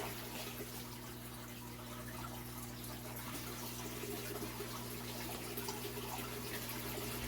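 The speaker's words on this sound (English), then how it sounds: "Go ahead and refill my bottle." Tap water runs into a bottle being refilled for watering pepper seedlings, a steady faint hiss of flowing water, continuous and low with no talking.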